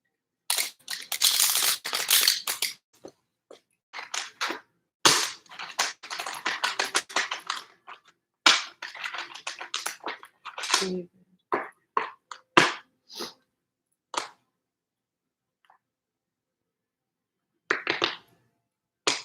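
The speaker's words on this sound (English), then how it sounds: "we're good on the shuffling" Tarot cards are shuffled close up in bursts of riffling, crisp flicking and papery snaps. Brief pauses and silences fall between the bursts, with no talk.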